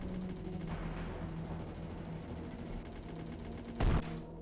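Tanks firing in the strategy game Commanding Nations, a continuous rattle of rapid gunfire at moderate level capped by one louder boom near the end.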